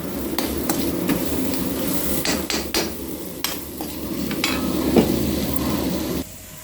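Cumin and coriander powder fries with spices in a pan for aloo samosa filling, a moderate sizzle broken by sharp spoon knocks and scrapes against the pan, ending abruptly.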